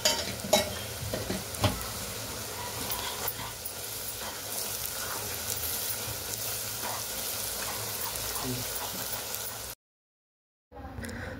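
Garam masala, turmeric and tomato sizzle and fry in a pan for a fresh jawla (small shrimp) dish, with steady close scraping as the mixture is stirred, then a brief pause of silence before the sizzle resumes.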